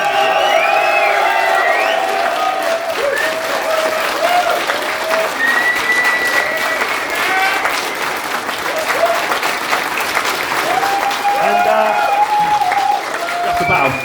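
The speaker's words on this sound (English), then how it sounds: "big round of applause for Matt, Sean, David, and James." Loud, sustained applause from a convention show audience, mixed with cheers and scattered whoops, dense clapping holding steady throughout with crowd voices mingling in.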